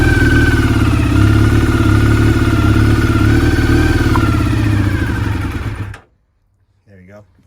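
Honda VFR400 NC30 motorcycle engine idling steadily and loud up close, a continuous throbbing rumble with slight clatter, then cutting out abruptly near the end, followed by a brief voice.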